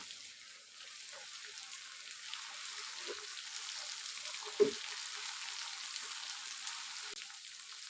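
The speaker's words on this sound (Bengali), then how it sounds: "দিয়ে দেব আদা বাটা, রসুন বাটা, কাঁচামরিচ বাটা। এবার আবারও ভালোভাবে নেড়ে চেড়ে নেব।" Chicken sautés in a pan with ginger, garlic and green chili paste, giving a steady soft sizzle with a few faint stirring knocks and one brief louder clink, no voices.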